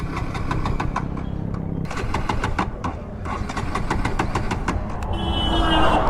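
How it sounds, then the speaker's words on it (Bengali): A Bajaj Pulsar NS 200 BS6 motorcycle's engine cranks in repeated rapid bursts, the starter chattering with a brief pause before catching into a rising rev, loud and close. "গাড়ি কাত করে এবার আবার স্টার্ট করা যাক।"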